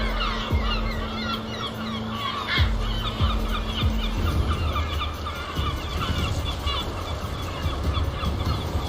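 Seagulls on an African beach keep up a dense, steady chorus of overlapping squawks and cries over constant background wash, fairly close and loud.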